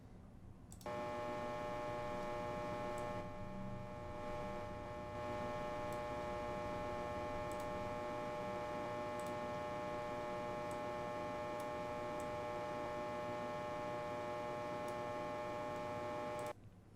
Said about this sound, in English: Here we go, yeah, light buzz.